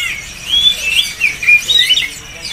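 Young jikun bird chirping at a stall in the Pramuka bird market, a string of bright, high, quick tweets and whistles repeating close by and fairly loud, with faint market background underneath.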